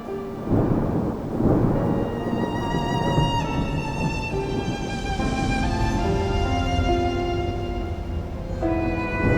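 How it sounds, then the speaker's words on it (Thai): Thunder rumbles loudly and continuously through a heavy rainstorm, with a deep crashing peak near the start and a steady rain wash beneath a layered, tonal background throughout. "เสียงฟ้าร้องสนั่นวันไหว"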